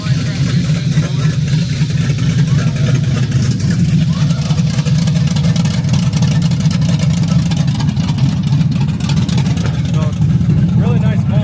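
2006 Ford Crown Victoria P71 with a custom bumper, its engine idling with a deep steady rumble and gentle revs, close and loud, while people talk nearby.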